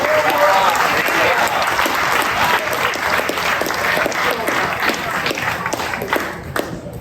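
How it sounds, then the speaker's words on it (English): A reunion crowd claps for the kitchen staff, a dense, steady round of applause that stays loud for several seconds, then thins and fades near the end, with some voices mixed in. "Round of applause."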